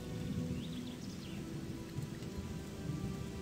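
Steady rain falls in the Gothic II game world, a dense continuous hiss of drops with a low rumbling wash underneath and faint bird chirps briefly above.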